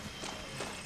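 Horse hooves clip-clopping in Far Cry 6, a few soft quick hoof steps, fairly faint and close.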